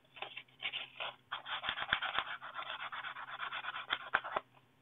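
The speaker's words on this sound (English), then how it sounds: "we're going to go in with our sandpaper and make sure we smooth out any file marks that we may have created." Sandpaper rubs back and forth over a metal part of an SA Sports Crusader recurve crossbow, smoothing file marks in quick, close, rhythmic scratchy strokes with brief pauses and no talking.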